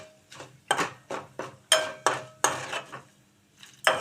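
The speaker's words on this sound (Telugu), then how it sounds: "తాలింపు వేగిపోయింది." Tempering spices with turmeric fry in a pan for coriander chutney, marked by a run of sharp, close stirring scrapes and clinks of a spoon against metal over a light sizzle, spaced irregularly across the stretch.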